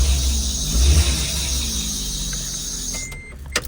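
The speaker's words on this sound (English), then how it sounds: "Let me give it some gas." A car engine idles steadily with a belt-like whine, then is briefly given gas, rising and dropping back. A short sharp click follows near the end. No one speaks.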